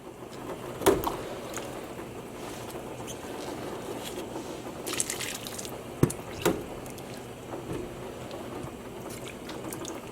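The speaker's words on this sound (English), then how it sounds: "let's rinse out our container of some blue" Water sloshes and drips faintly as a container of blue yarn dye is rinsed out, with a few soft knocks and splashes over a steady low background and no talking.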